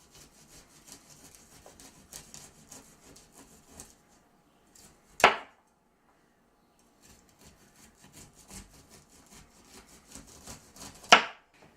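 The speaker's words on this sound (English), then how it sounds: "So what you do is you cut those strips of corn off the cob." A knife cuts strips of corn off the cob, giving soft scraping rubs broken by two sharp, louder strokes and a few brief pauses. The work sounds close and quiet, with no talking.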